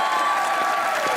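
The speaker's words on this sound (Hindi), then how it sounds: "तालियां।" A studio audience at a Pakistani comedy talk show applauds in a dense, steady wash of many hands clapping at once, unbroken for the short moment.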